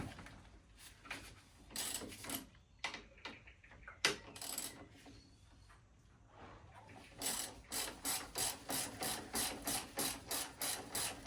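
8mm Allen key working on a Brembo radial brake caliper of a Harley CVO Street Glide, giving quiet irregular clicks and scrapes that settle into a steady run of rapid ratcheting ticks near the end.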